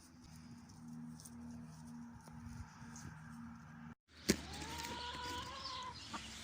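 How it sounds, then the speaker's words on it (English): A rooster gives one long, drawn-out crow after a brief pause, with scattered clucking and farmyard bustle on a homestead beforehand. "The new rooster just arrived."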